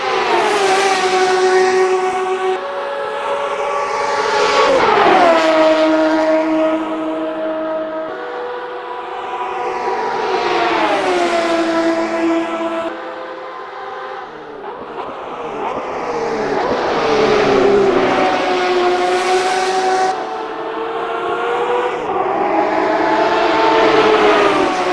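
A Porsche RSR race car in the Automobilista 2 racing sim screams loudly through repeated accelerations, its engine pitch climbing through each gear before dropping at the shifts, sustained and alone.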